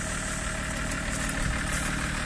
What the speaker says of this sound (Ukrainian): Слухаємо, як рівно працює мотор, і подивимося далі.